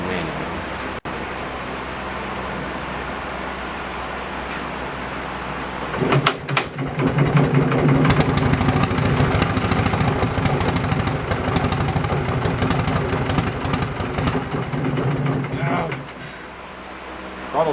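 A Wisconsin generator engine runs steadily near the microphone, its loud mechanical clatter and rumble rising sharply about six seconds in as the throttle opens, then easing back near the end.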